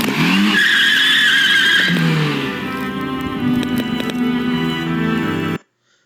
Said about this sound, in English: we've seen right there that the car just whizzed by